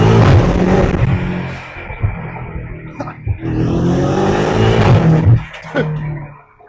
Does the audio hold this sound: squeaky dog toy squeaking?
no